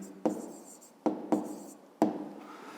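A pen writes an answer to a fifth-grade math exercise by hand, four distinct scratchy strokes taps on paper close up, each fading quickly, with no talking.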